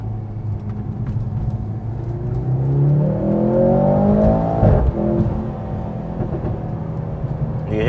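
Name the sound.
exhaust backfire of Mercedes-AMG C43 while driving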